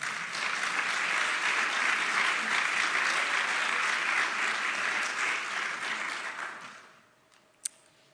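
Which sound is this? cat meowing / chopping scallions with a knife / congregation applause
congregation applause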